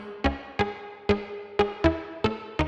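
A bright synthesizer patch in FL Studio, treated with a short reverb in a small room plus compression and sidechain, plays short punchy stabs in an uneven rhythm, about seven hits with quick decays and no voice.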